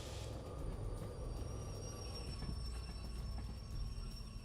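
Train braking in the Derail Valley rail game, a steady low rumble of rolling wheels with thin, high metallic squeal tones sustained throughout, fairly quiet and unbroken.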